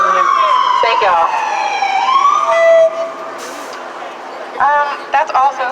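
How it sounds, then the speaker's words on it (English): An emergency siren wails and sweeps in pitch, then fades as voices and street noise take over near the end. "ambulances and police cars using their sirens to break"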